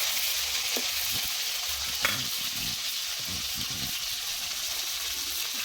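Pieces of kuche eel fish fry in hot mustard oil, a steady loud sizzle with occasional stirring scrapes and pops throughout.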